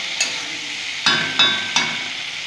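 Potatoes and small fish sautéing in a pan, a low frying hiss broken by three sharp scraping stirs spaced about half a second apart, close and moderately loud with no talk.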